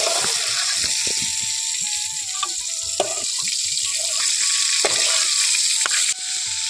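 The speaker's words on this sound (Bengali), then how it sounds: "এখন আমি এখানে দিয়ে দিচ্ছি কিছুটা কালো জিরে। জিরেটা হালকা ভাজা হয়ে উঠলে এখানে দিয়ে দিচ্ছি রসুন।" Black cumin seeds frying in hot oil in a village kitchen, a steady loud sizzle running throughout with a few brief clicks and taps, no voices.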